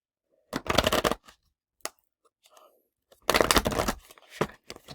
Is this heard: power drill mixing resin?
no